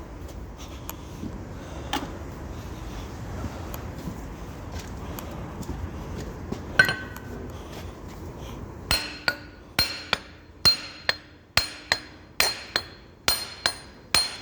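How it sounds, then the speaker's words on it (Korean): A hydraulic cylinder part is struck with a brass rod during repair, first as scattered light knocks and clinks, then a close run of about ten sharp, ringing metallic hammer blows in quick succession. "신주봉으로 한번 쳐봐야 되나"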